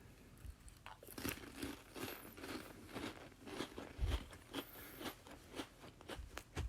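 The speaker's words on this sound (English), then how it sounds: "Hear me crunching on this?" Crunchy food being bitten and chewed close to the mic, a steady series of sharp crackling crunches spread across several seconds with no talking.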